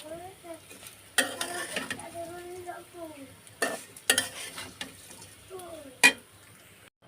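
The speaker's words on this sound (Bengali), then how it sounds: "সেমাইগুলো দিয়ে দিছি তেলের মধ্যে হালকা করে একটু ভেজে নেব তেলের মধ্যে" Vermicelli frying lightly in oil: a soft sizzle with scattered clanks and scrapes of a utensil against the pan, while a voice-like tone comes and goes in the background.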